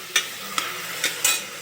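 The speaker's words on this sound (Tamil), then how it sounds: "தக்காளியும் பச்சை வாசம் போகிற வரைக்கும் வதக்கணும்." Tomatoes sauté in a pan for sambar rice, a soft sizzle under four quick, evenly spaced scrapes of a spoon stirring them.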